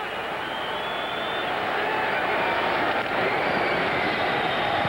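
Stadium crowd roaring at a 1990 CFL football game at BC Place, Hamilton Tiger-Cats at BC Lions: a broad, steady wash of crowd noise filling the whole stretch, sustained and loud, with a voice talking over it.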